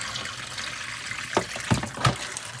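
Cold water runs from a tap in a faint trickle, with a few soft splashes as it hits something, heard close by and without talk.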